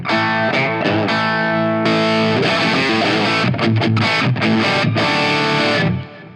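An electric guitar plays through a tube amp turned about three-quarters up, giving a loud, distorted, sustained tone with strummed chords and choppy palm-muted stabs before ringing out at the end.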